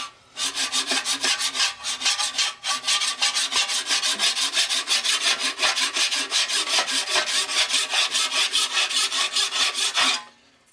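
A hand file scrapes back and forth across the metal surface of a 12-inch surface grinder in quick, even strokes, each one a bright rasp, close and steady for about ten seconds with no voices.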